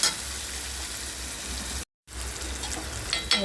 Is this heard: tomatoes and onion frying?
yes